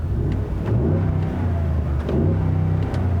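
A 7.3-liter gas V8 in a 2020 Ford F-250 Tremor revs loudly up close, its throaty rumble surging and falling in two quick blips, touching a soft limiter.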